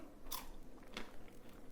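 Two crisp, close bites into a crunchy smoked bacon chip crack sharply about half a second apart, followed by soft quiet chewing.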